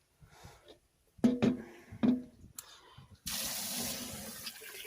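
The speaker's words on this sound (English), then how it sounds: "we're going to put some cold water in here" A few clinks and knocks, then a cold tap opens and water pours steadily into a pot, a rushing hiss that continues to the end.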